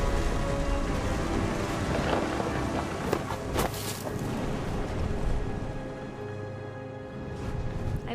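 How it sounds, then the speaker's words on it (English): Steady rain with rumbling thunder during a thunderstorm in the video game What Remains of Edith Finch, a dense continuous wash with a few louder cracks partway through. "The thunder sounded much too close and full of angry power."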